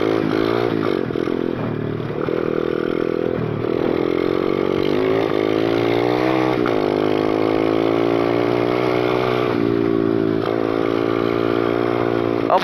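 A 125cc dirt bike engine runs steadily near the listener, revving up in repeated bursts of acceleration with rising and falling pitch.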